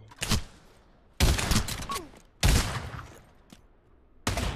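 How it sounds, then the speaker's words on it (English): Gunfire from the VR shooter game Pavlov, with four sharp, loud shots spaced about a second apart, each ending in a short echoing tail. "Again, I fired a gun."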